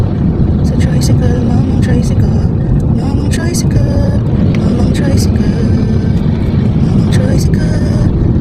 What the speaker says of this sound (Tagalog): sumusundan na naman natin ang tricycle